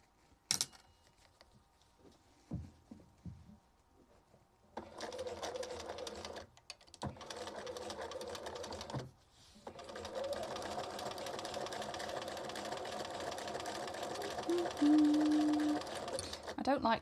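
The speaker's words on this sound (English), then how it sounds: "we're top stitching in black, so no one will see it" A sewing machine top-stitches a black Victorian skirt in long close bursts after a quiet start with scattered handling clicks, the motor whirring steadily with brief pauses between runs.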